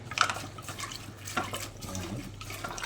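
Water splashes and gurgles as about one and a half glasses are poured into a cooking pot of meat for rice and meat, a soft, continuous liquid sound heard close up.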